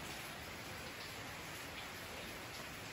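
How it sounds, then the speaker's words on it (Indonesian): Steady rain falls outdoors, a dense continuous hiss of drops on surfaces at an even level with no voices. "tapi ini cuma hujan"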